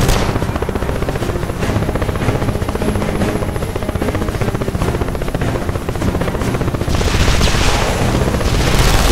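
A helicopter's rotor thumps loudly and steadily throughout in the video game The Expendables 2, with a rumbling engine drone and no talk.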